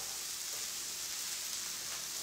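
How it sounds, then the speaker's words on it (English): Okra sautés in a pan with a soft, even frying hiss that holds steady and fairly quiet throughout, with no stirring or voices. "the recipe says to let this saute for about 10 minutes"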